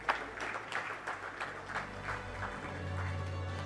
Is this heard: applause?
yes